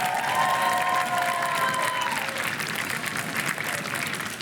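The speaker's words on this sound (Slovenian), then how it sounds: "En aplavz za obe ekipi." Steady applause from a crowd at a school quiz competition, dense and sustained throughout, with a few voices calling out over the clapping.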